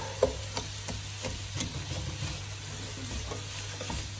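Sliced onions fry in a pan with a low, constant sizzle, while a spoon stirs and scrapes against the metal in soft, irregular taps close by.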